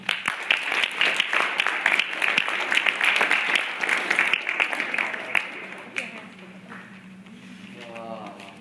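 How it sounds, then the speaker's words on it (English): An audience at a regional intermediate speech arts final claps loudly for the next student contestant, a dense burst of applause that fades after about six seconds into quieter room noise and a voice. "Put your hands together for our next participant"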